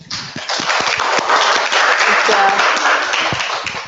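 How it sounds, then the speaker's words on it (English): Group applause at a Capital Learning Community session, a loud continuous wash of many hands clapping with distinct individual claps audible throughout, swelling in quickly after a brief start. "Give yourselves a round of applause."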